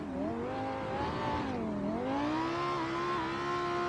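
BMW M5 E60 engine wailing at full throttle on a mountain road, a loud sustained high-revving note that dips briefly as revs drop, then climbs steadily again with no talk over it.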